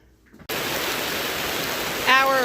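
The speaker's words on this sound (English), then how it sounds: "It is raining, so we've moved into the greenhouse." Rain falls outdoors on a farm during rooster butchering, a loud continuous hiss that starts suddenly and holds steady, with a person starting to speak near the end.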